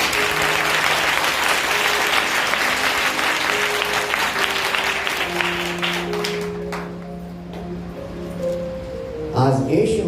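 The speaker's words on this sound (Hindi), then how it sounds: "ताली बजाएंगे।" Congregation clapping at a Sunday church service in Andhra Pradesh, steady dense applause with sustained tones of music beneath, thinning toward the end before a brief louder burst.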